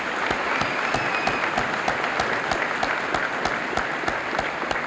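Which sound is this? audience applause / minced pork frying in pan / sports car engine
audience applause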